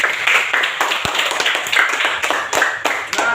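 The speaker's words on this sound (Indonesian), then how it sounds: "Mari sekali lagi beri tepuk tangan buat kita semua" Students in a classroom clap their hands together, a close, dense patter of individual claps with a few sharper slaps standing out, loud and continuous for a few seconds.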